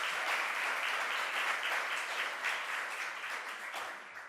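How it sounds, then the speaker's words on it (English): An audience at a New York governor's cost-of-living announcement breaks into steady applause, a dense wash of clapping heard from some distance that tapers off slightly toward the end. "Let's give him a round of applause."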